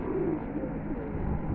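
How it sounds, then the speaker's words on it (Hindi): A black Katrangi pigeon coos softly in low, murmuring tones, heard faintly over a steady, noisy background with no talking. "हम इस कबूतर को बुलाते हैं काले लट्ठे"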